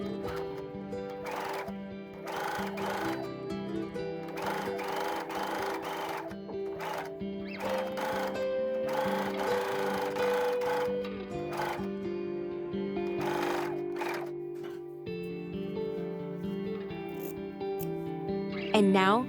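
A sewing machine runs steadily while stitching bias tape around a garment neckline, its rhythmic, fairly quiet mechanical whir carrying on for the whole stretch, broken by a few brief pauses.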